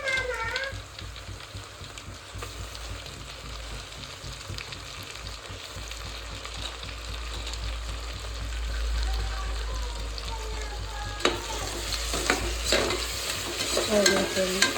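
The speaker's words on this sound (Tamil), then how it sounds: "இதை போட்டு நல்லா வதக்கிக்கோங்க" Tomatoes and onions are sautéed in a pan for chicken biryani, with a continuous soft sizzle and occasional stirring scrapes and clinks, close and moderate in level, growing busier toward the end.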